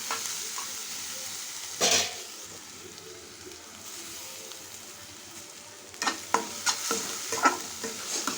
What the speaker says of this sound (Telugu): ఇప్పుడు ఇందులో కొంచెం కరివేపాకు యాడ్ చేసుకుందాం